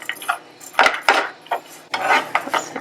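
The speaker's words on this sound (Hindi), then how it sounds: "इसे एक बार अच्छे से स्टर करके" Mirchi ka salan stirred in a pan with a metal spoon, several quick scraping and clinking strokes against the pan, close and fairly loud, in irregular bursts.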